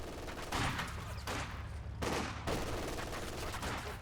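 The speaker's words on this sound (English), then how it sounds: "Grenadiers firing away." Grenadier squads fire bursts of rifle and machine-gun shots during a Company of Heroes 2 match, a dense, continuous crackle of battle gunfire heard at a distance.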